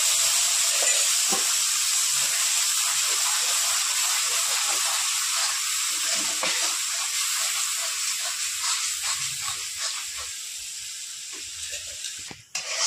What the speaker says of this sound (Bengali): এবার দিয়ে দেবো মশলার পেস্টটা